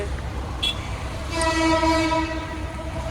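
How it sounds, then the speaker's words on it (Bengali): A metro rail train passes nearby on a Dhaka street at night, its horn sounding a sustained tonal blast that swells midway and holds to the end over steady low traffic rumble. "মেট্রো রেলের শব্দ আমরা শুনতে পাচ্ছি"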